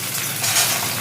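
Chopped bitter gourd with panch phoron and a dried red chilli frying in a pan, a short, loud, dense sizzle that holds steady across the moment, no voice.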